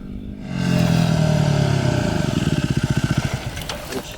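Yamaha WR250R dirt bike engine out in the Simpson Desert dunes, a steady droning hum that builds then breaks into a rapid pulsing putter toward the end, fairly close and alone without voices.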